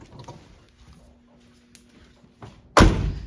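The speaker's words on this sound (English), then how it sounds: "Close the doors." A car door on a 1970 Chevrolet El Camino shuts with a heavy thud near the end, after a few quieter clicks and handling sounds.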